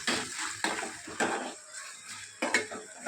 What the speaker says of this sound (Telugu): టమాటా బాగా మగ్గిపోయేంత వరకు ఇలా కలుపుతూ మగ్గించుకోవాలి